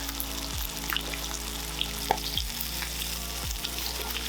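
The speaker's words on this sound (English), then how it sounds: "You're going to want to cook your fillets for about 3 to 5 minutes on each side, with more time spent cooking on the skin side so you get that lovely crispy skin" Bass fillets fry skin side down in a pan with a steady close sizzle, broken by three low, sliding knocks spaced about a second and a half apart, with no voices.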